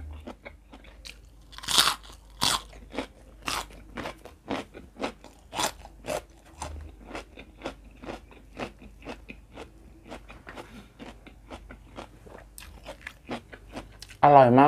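Close crunchy chewing and biting of Isan-style pickled bamboo shoot soup with heaps of crisp fresh vegetables, steady repeated crunches in an irregular rhythm, with a brief voice right at the end.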